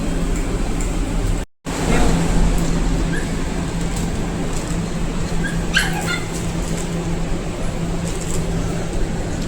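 Puppies give faint yips and whimpers, with a few brief barks, against a steady background hum in an indoor space.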